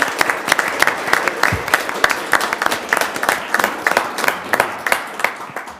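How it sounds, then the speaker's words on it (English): Clapping from a city council meeting audience, a steady, moderately loud round of many hands with distinct individual claps, continuing evenly to the end. "let's give you a round of applause"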